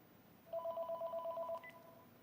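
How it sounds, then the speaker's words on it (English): A telephone rings with an incoming call: one quiet, fast electronic trill lasting about a second over faint room hiss. "Oh, it's the Moon calling on the phone right now."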